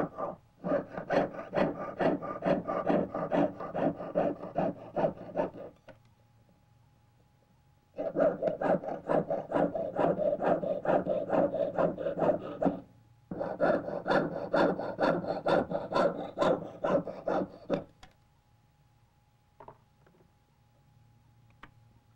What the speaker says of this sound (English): Interior spaces are cut first, and then the metal around the pieces are sawn away, except where the tabs are holding.